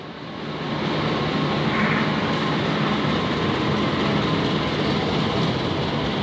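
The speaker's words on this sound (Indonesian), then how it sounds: "Jalur 2 masuk kereta api Motis Nataru dari Lempuyangan tujuan Pasar Senen" The Motis Nataru train, hauled by locomotive CC2018318 and running from Lempuyangan to Pasar Senen, pulls into platform 2 with a loud, steady rumble and roar of rolling wheels that swells in over the first second and then holds.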